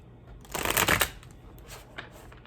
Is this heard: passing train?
no